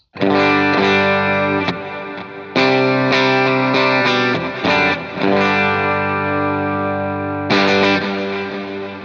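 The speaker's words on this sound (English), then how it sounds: "This is what the amp sounds like." An electric guitar through an amp with light delay and reverb plays sustained chords and single notes, ringing and decaying with brief gaps between phrases, played alone with no talking.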